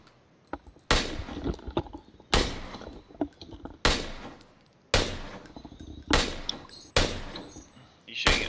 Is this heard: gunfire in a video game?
yes